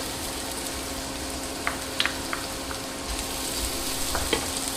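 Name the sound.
garlic frying in a pan with Brussels sprouts and chorizo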